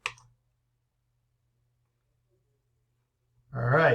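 A single short mouse click runs the join tool in QGIS at the very start, followed by near silence until a voice begins to speak at the end.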